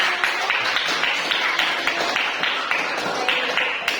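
Classroom applause from a group of students in a middle-school mathematics lesson, a brief burst of many hands clapping steadily at moderate level, with faint voices beneath.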